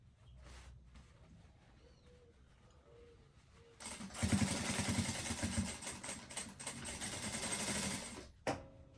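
A sewing machine stitches a fanny pack seam after a quiet start, running steadily with a fast mechanical whir for several seconds before stopping abruptly, then giving a brief final burst.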